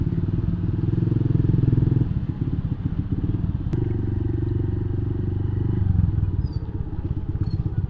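A sport motorcycle rolling slowly through traffic in Makassar, its engine a steady, close, throbbing idle-level drone with small rises in revs and a brief clatter partway through.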